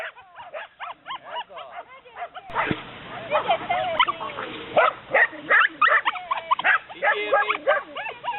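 A dog barks in short bursts during sheep herding training in the field, mixed in with people talking, calling and praising close by.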